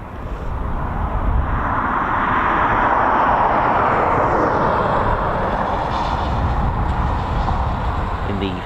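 A Eurofighter Typhoon FGR4 fast jet at RAF Coningsby, carrying drop tanks, roars loudly and steadily for the whole stretch, a broad sustained engine rush without a break.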